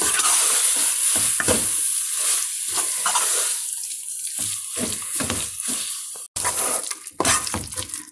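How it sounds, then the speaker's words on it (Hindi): Spoon scraping and stirring coconut barfi mixture in a pan, with steady repeated strokes and a soft sizzle close by, no talking. "बस मैं मुसलसल चम्मच चलाती रहूंगी ताकि नीचे ना लगे।"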